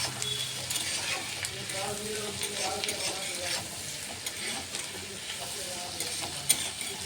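Drained pasta frying in a pan with salt and spices, a soft continuous sizzle with stirring scrapes and rustles throughout, moderately quiet and close.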